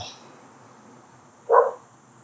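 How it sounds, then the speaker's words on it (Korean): A dog at a house on the ground floor of a run-down residential building gives a single short, fairly loud bark after a stretch of quiet background. "1층에 지금 개가 있고요."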